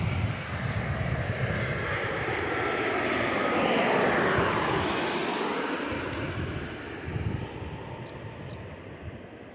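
A Boeing 787 passes low overhead on arrival to runway 03 at Perth Airport, a loud, close engine roar that swells to a peak midway and slowly fades as it moves on.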